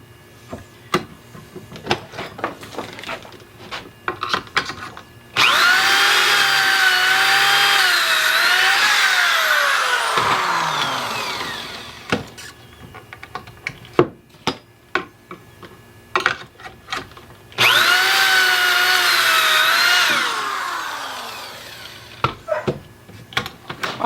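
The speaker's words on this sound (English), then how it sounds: "we're going to go ahead and get all of our pocket holes drilled" Power drill boring pocket holes in wooden frame pieces, two loud sustained whining bursts with a rising then falling pitch, separated by clicks and handling knocks from setting up the jig.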